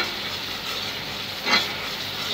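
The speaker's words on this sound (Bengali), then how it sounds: "মশলাটা ভালো করে কষিয়ে নেব এখন।" Turmeric, chili and coriander powders with salt fry in a pan with cumin, garlic and chili paste for a spicy potato chicken curry, giving a steady soft sizzle with one brief scrape of stirring midway.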